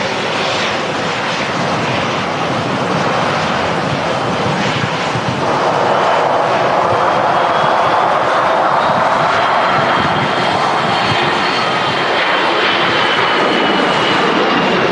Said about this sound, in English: We've got an EasyJet to get out first.